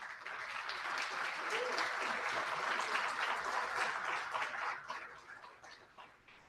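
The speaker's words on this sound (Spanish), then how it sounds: "démosle un aplauso a nuestros panelistas" Audience applause for the panelists at a librarians' day celebration event, steady and even for several seconds before fading out, fairly quiet overall.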